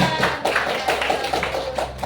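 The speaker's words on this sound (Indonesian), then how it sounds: "Tepuk tangan lagi buat Apipa." A classroom of students in an Indonesian school claps for a classmate, a dense, steady patter of many hands close by with no voices over it.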